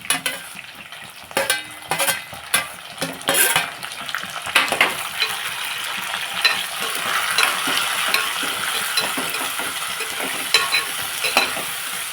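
Tomato pieces frying in a pan for tomato bath, a close, bright sizzle with irregular scraping and tapping as they are stirred, busier at first then settling into a steady hiss.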